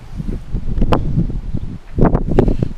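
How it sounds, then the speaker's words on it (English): Strong wind blows outdoors beside a BMW, gusting and buffeting the microphone in loud uneven rumbles and rustles. "I'm going to keep it real short because it's so windy"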